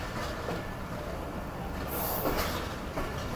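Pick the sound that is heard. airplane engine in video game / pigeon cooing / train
train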